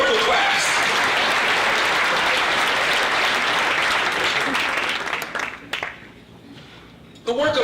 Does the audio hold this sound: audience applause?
yes